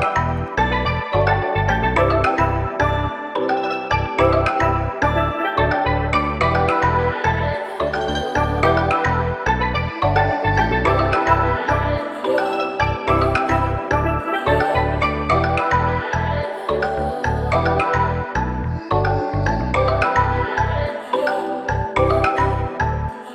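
A dreamy Afrobeat piano melody loop made in FL Studio plays on a steady repeating groove with punchy low drum hits and bright chords, loud and continuous throughout with no voice.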